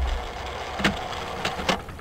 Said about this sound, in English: That's the clock.